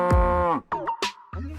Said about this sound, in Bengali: এই গরুটা এভাবে ডাকছে কেন?